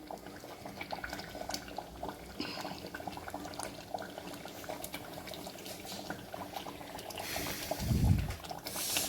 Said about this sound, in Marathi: आपली भाजी कशी उकळायली मस्तपैकी